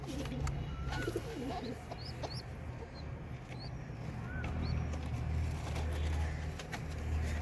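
Pigeons coo softly in a desi pigeon loft where chicks are kept, the low murmuring calls repeating under a steady background hum, with a few higher chirps scattered through.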